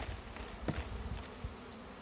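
Honey bees buzz in a dense, steady hum as they are shaken from a hive frame into a plastic container during a hive inspection, close and fairly quiet with a few soft knocks.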